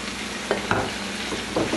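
Green chili peppers stir-frying in a pan with eggplant for Indian bhartha, giving a steady close sizzle broken by several short scrapes of stirring.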